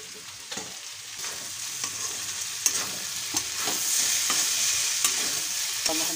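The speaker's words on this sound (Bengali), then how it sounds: "ভাজাটা এবার হয়ে এসছে।" Snake gourd, onion and jackfruit seeds fry in an uncovered pan with a steady hiss and frequent scraping stirs of a spatula, the sizzle swelling slightly toward the end.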